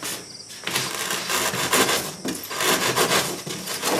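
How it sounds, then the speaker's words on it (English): A rasp files a homemade wooden moose target, giving repeated coarse scraping strokes up close, loud and rhythmic with brief gaps between passes. "Anyhow, we can rasp that up."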